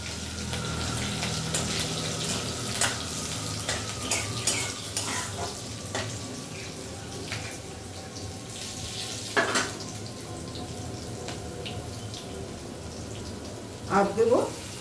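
Cumin and asafoetida temper in hot oil for jeera aloo, a continuous crackling sizzle with occasional utensil clinks and stirring knocks, while a person talks at times.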